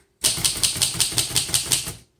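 A 1937 Royal Model O manual typewriter gives a close, crisp run of about ten evenly spaced key strikes, each a sharp metallic clack, in a burst lasting under two seconds.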